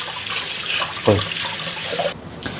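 Water runs steadily from a tap while fish is rinsed for a barbecue, a continuous close splashing rush with a brief heavier gush partway through.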